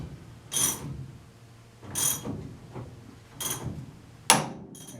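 A ball joint and tie rod end puller is cranked on an Austin Healey Sprite's front steering arm, giving four separated ratcheting clicks spaced about a second and a half apart, close and clear over quiet background.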